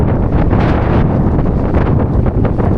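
Breezy wind buffets the microphone at an outdoor autumn fair of classic and commercial vehicles, a loud, dense rumbling roar with no talk.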